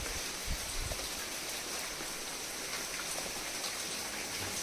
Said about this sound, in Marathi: पाऊस चालू आहे पाऊस थांबतोय येतोय येतोय थांबतोय